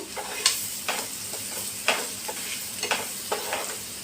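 Onion pieces frying in a pan with steady sizzle, broken by a few stirring scrapes that come every second or so, close up and moderately loud, with no voices.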